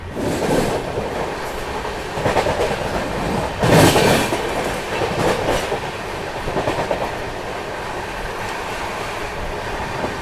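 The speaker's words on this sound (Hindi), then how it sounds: "नॉन स्टॉप राजधानी अब 130 चल रही है।" A Rajdhani Express rushes non-stop at about 130 km/h, heard from inside a first-class AC coach, with steady rumbling and rhythmic clickety-clack of wheels over rail joints, plus a brief louder burst.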